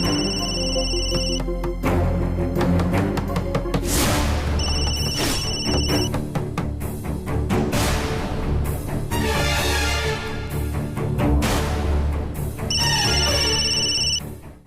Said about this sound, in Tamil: எத்தனை வாட்டி ஃபோன் பண்ணாலும் எடுக்கவே மாட்டேங்கிறா